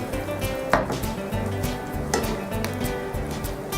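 Bacon grease poured into onions cooking for baked beans, a continuous sizzle with soft stirring and pan scrapes and a couple of brighter clinks, close and steady.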